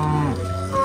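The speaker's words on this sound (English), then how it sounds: "A way to try and round up some cows and calves." A single cow or calf lets out a short, close moo on a farm during a roundup of cows and calves, the low bellow dropping off quickly.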